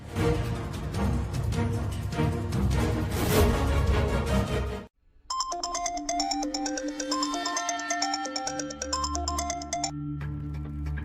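A phone rings unanswered with a melodic electronic ringtone that repeats its tonal pattern for several seconds, following a burst of dense music that cuts to brief silence.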